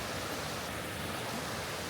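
Steady broadband rushing of a waterfall carrying little water after a dry spell, an even, unbroken hiss at moderate distance with no voices.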